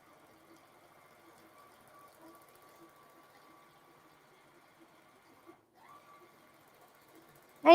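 A mid-arm quilting sewing machine stitches a pantograph pattern with a faint, steady mechanical hum that dips briefly midway, then ends in a sudden loud knock.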